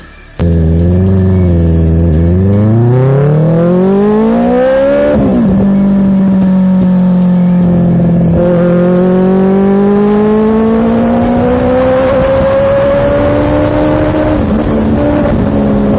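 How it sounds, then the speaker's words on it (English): A Benelli TNT 600i inline-four motorcycle engine revs up and down close by, its pitch climbing in smooth rising sweeps and holding a steady high whine between throttle blips. "Who doesn't like an inline 4 sound?"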